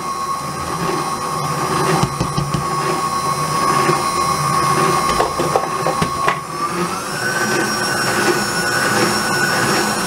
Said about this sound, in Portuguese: com a batedeira assim no mínimo a bater